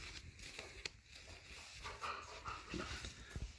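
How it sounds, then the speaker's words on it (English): A pet dog pants rapidly and lets out whimpering whines nearby, close and fairly quiet, with a few light rustling and thumping movements and no speech. "My dog is making noise and flailing around because that's what he does."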